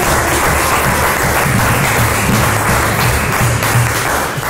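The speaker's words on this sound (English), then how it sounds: "let's get one more round of applause before we open it up for questions" Steady, dense applause from a large crowd fills the whole stretch, loud and continuous without any talking.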